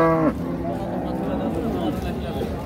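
A Holstein Friesian cow lets out a loud, close moo with a clear harmonic tone at a busy cattle market, then the call breaks off into steady crowd babble and nearby talking.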